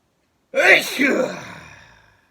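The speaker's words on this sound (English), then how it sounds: "excuse me about a sneeze." A single sharp sneeze bursts out close to the microphone, then trails off into a fading breathy exhale.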